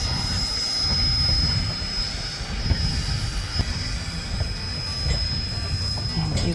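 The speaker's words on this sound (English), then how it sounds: "And engine 18 is approaching the tanks." Southern Pacific steam locomotive Engine 18 approaches the tanks with a steady rumbling roar, scattered clanks and a persistent high-pitched squeal from the rails, staying loud and close from start to finish.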